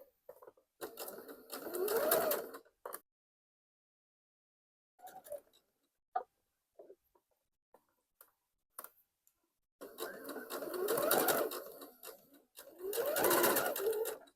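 Sewing machine stitching shirring rows with elastic thread, two rapid whirring runs at the start, then scattered clicks and brief taps in a pause, then two more sustained bursts, close and clear.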